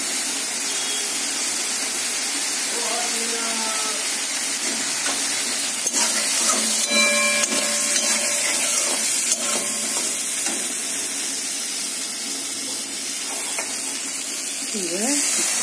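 Fish frying in a pan, a steady bright sizzle with spatula stirring and scraping throughout, faint voices and clatter in the background.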